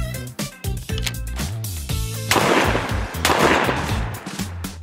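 Loud, booming blasts from a Benelli 828U 12 gauge over/under shotgun at close range, over a dense background of other sounds.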